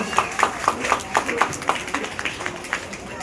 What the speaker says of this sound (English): Give a round of applause for Angel.